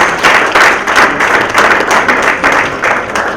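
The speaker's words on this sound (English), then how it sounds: "Can we give her a round of applause?" Audience applause for a geologist receiving a paper competition award at an offshore West Africa conference, a close, loud burst of many hands clapping in a lively, slightly pulsing rhythm.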